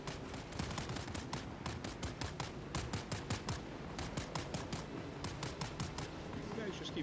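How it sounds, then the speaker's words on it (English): Gunfire crackles in rapid, repeated bursts in the video game Dune: Awakening, with rhythmic shots rattling on continuously over a busy in-game background. "You guys just keep shooting at each other and have fun."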